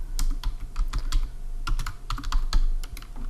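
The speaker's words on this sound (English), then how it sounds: "we're going to type the title of the first lab" Rapid clacking keystrokes on a computer keyboard as a title about the thickness of aluminum foil is typed, irregular bursts of close, crisp taps over a steady low hum.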